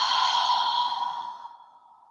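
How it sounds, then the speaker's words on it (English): A long, soft exhaled breath during a yin yoga practice, steady at first and then gradually fading out over about two seconds, close and alone. "Breathe out."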